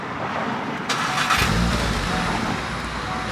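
A Volkswagen Golf R with a non-resonated, valveless Milltek exhaust starts up close by, a short crank and catch that settles into a steady, fairly quiet idle rumble.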